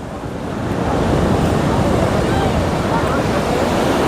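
Ocean surf rolling in at Juhu beach, Mumbai, at high tide: a steady, broad wash of waves with wind noise buffeting the microphone, continuous and fairly loud throughout.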